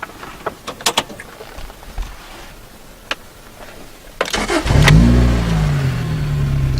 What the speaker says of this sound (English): This car has an aftermarket Larney exhaust that really sounds nice.